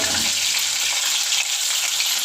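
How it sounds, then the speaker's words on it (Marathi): Paneer fries in a kadai with a loud, close, steady sizzle, a dense hiss of oil that holds evenly throughout with no voices. "त्याच कढईमध्ये आपण पनीर भाजून घेऊया."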